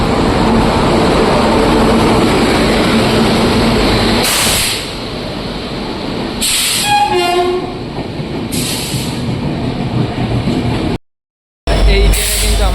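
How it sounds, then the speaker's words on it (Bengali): A Brahmaputra Mail passenger train on the Kamakhya to New Delhi route rumbles loudly and steadily past, with several sharp horn blasts and rhythmic wheel clatter, then a brief dropout before the rolling noise resumes. "কামাখ্যা থেকে নিউ দিল্লি পর্যন্ত ব্রহ্মপুত্র মেল"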